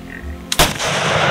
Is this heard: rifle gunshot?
yes